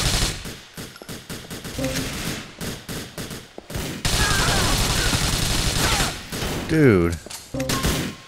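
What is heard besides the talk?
gunfire from enemies in the video game GTA IV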